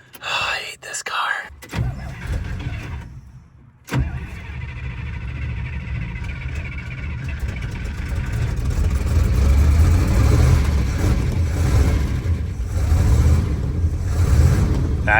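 A 1955 Imperial V8 cranks briefly, falls quiet, then fires and settles into a steady running idle that grows slightly louder, with soft voices heard near the start.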